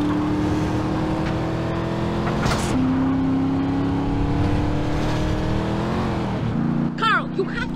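A car driven in the video game GTA San Andreas, its engine holding a steady drone that shifts pitch as it accelerates, with a burst of skidding or revving near the end; voices talk over it.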